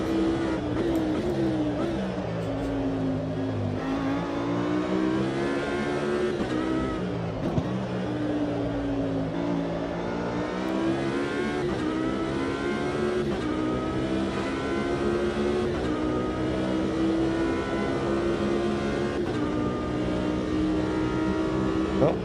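A race car engine in the Automobilista 2 sim during an endurance race at Sebring revs continuously and loudly, its pitch climbing and dropping through gear changes over a long stretch, with a brief sharp knock midway.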